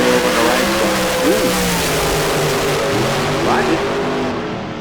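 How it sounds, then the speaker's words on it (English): A dragster engine at a bracket drag race in Las Vegas drones steadily with a rising pitch sweep, heard from a distance amid constant crowd and track noise while an announcer talks over it. "The dragster just kind of looping away over on the"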